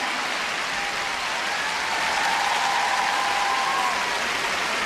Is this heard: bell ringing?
no